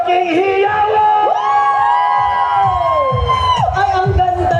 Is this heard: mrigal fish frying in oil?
no